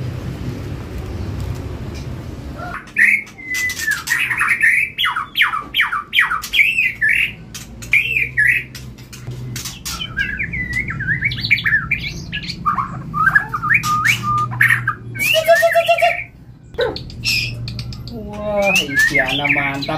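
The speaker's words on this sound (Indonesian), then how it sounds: "Ini murai ori Medan Baholok ya mas ya" A white-rumped shama from Bahorok, Medan, caged at a bird kiosk, sings loud varied whistles, squawks and rapid trills close up, with pauses between phrases and a low background hum.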